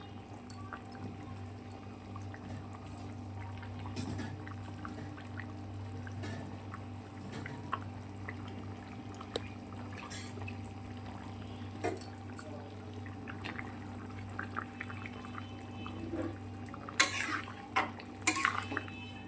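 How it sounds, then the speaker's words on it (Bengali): Fish and coriander leaves go into a pot of boiling curry with fish and potatoes, making soft pouring and splashing sounds along with clinks of a utensil against the pot over a low steady simmer. Two sharper clatters come near the end, and there is no talking. "এবারে এখানে মাছ আর ধনে পাতাটা দিয়ে দিচ্ছি।"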